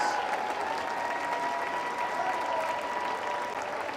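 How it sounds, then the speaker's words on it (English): A gym crowd at a high school basketball game gives a steady round of applause for the senior players and their families, a dense wash of clapping that stays even and loud throughout. "Can we have one final round of applause for our 24-25 basketball seniors and their families?"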